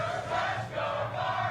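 Dense wrestling arena crowd roaring and chanting with fans split between two wrestlers, a steady loud wash of many voices with slight swells, no single speaker standing out.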